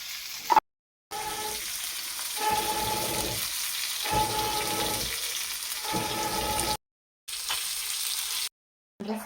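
Fish frying in oil at home, a steady close hiss of sizzling that carries on throughout, broken by a few short gaps of silence.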